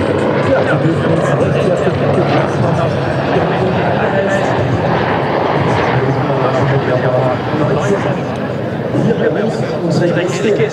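AgustaWestland A109 helicopter flying a display at an air show, its rotor and engine noise filling the scene as a loud, steady roar throughout, with people talking over it.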